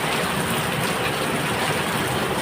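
Steady heavy rain pours over Jalna city at midday, a dense, even hiss of continuous downpour that holds without pause from start to end, with no voices.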